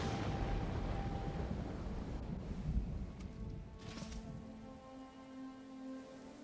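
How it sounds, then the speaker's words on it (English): Rain beats hard and steadily onto surfaces during a storm in the samurai video game Ghost of Tsushima, with a low rumble under the downpour that fades a little toward the end. No one speaks. "Yeah, the storm's in the game."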